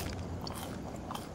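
A crunchy pizza slice bitten and chewed in the horror game Fears to Fathom gives a short close burst of crisp crunching.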